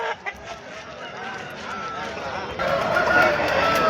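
A rooster crows at the Pileru hen market amid the steady murmur of a crowded outdoor market. Voices carry throughout, with a louder stretch near the end.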